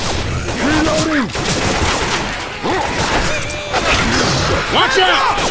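Guns fire repeatedly in Left 4 Dead 2, a loud run of shots and bursts throughout, mixed with shouting voices.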